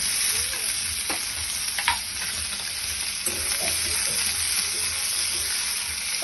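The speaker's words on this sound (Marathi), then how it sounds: "टोमॅटो सुद्धा आपल्याला 2 मिनिटं परतवून घ्यायचंय." Tomatoes sautéing with onions in a pan for a mushroom masala give a steady broadband sizzle, broken by a few soft scraping stirs and light clinks, with no one talking.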